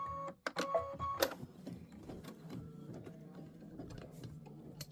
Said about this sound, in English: There is quite a bit of stitching in this one.